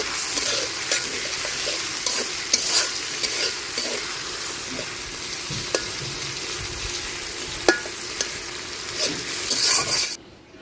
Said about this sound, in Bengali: পেঁয়াজটা লাল লাল করে ভাজা নিচ্ছি